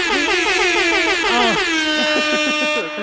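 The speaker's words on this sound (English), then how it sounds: "air horns for y'all" Blaring air horn blasts, loud and repeated in quick succession, with the rising and falling honks stacking into a continuous wall of sound.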